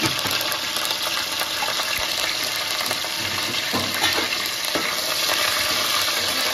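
Curry leaves and chilies tossed into frying spices in a hot pan give a loud, dense, continuous sizzle and crackle up close, with stirring scrapes throughout.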